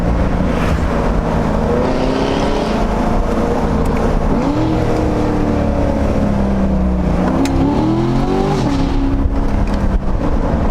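Chevrolet Corvette Stingray with a loud exhaust roaring continuously through upshifts, engine pitch climbing then dropping at each gear change, heard from inside the car, loud and without talk.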